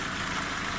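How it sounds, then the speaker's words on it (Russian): Steady engine drone from a 1999 VW Passat B5 with a 1.8-litre turbo engine that has a knocking fault, idling evenly and close by with a low, continuous rumble and no talk. "шум мотора"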